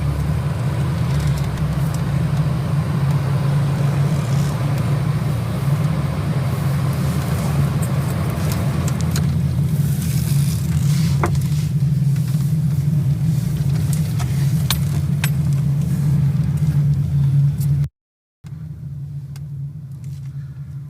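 A car drives into the grounds of a custom vehicle manufacturer, its engine rumble loud and steady throughout, close and continuous, with a brief dropout near the end.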